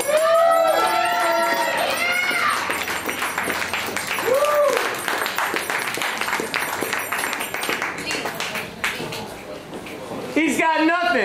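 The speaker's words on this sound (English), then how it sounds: "Ladies and gentlemen, please give a big round of applause to Nestor Topchy." Crowd applause and cheering at a live art event's opening night, sustained clapping mixed with whoops and loud talking voices throughout.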